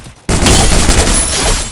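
Gunfire in the video game Free Fire erupts abruptly after a brief quiet and continues as a loud, dense, sustained volley of shots with no pauses.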